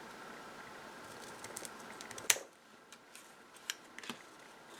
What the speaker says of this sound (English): I'm just going to cut them